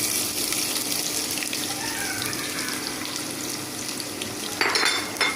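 Chopped onion dropped into hot oil in a wok (kadai), a steady close sizzle and crackle that holds evenly, with a brief clatter of stirring near the end and no talking.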